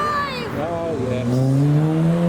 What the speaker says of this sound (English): Someone's doing some skids in a estate car.